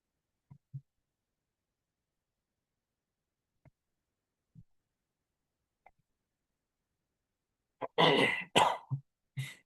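A man coughs and clears his throat several times, a few short faint bursts spread apart in quiet, then a louder run of coughs near the end.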